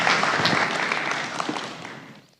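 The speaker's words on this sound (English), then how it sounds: "Let's give John a round of applause for being here tonight." An audience in a church gives a round of applause, a dense burst of clapping that fades away over a couple of seconds.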